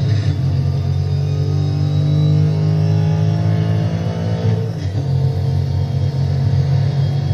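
Car engine in a video game drones steadily at low pitch with a constant rumble and hum, close and even, with no talk over it.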